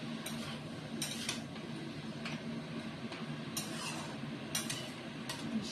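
Utensil scraping and clinking against a pan while spices are stirred into bottle gourd shukto, a series of sharp irregular taps over a steady low background hum.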